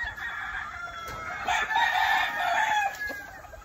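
A golden boy sweater gamefowl rooster crows loudly at close range, one long drawn-out call with a few clucks around it, and no talk over it.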